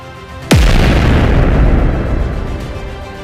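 A sudden deep boom stands in for the oxygen tank blast aboard the Apollo 13 spacecraft, with a sharp onset followed by a long rumbling decay heard alone.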